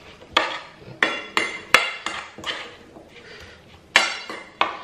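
Chopped rhubarb stirred with brown sugar in a bowl, a spoon knocking and clinking against the sides in a run of irregular, fairly close strikes with soft scraping between them.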